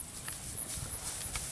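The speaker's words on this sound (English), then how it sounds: "I think the horses are coming to me." Horses, with a small pony among them, walk closer outdoors, their hooves clip-clopping faintly and irregularly at a distance over quiet background noise.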